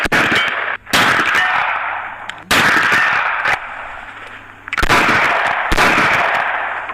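Unsuppressed gunshots from standard ammunition, heard close to the shooters on a range: five loud, sharp cracks at uneven intervals, each trailing off in a long ringing echo.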